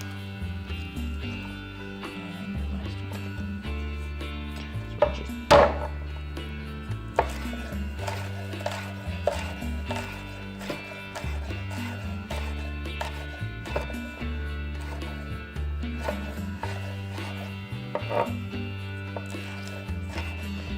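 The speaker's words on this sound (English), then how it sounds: "we have 4 cloves of garlic that we're just going to mince right up" A knife mincing four peeled garlic cloves on a cutting board during back-country cooking prep, rapid repeated chopping taps in uneven bursts, close and steady over twenty seconds with occasional sharper knocks.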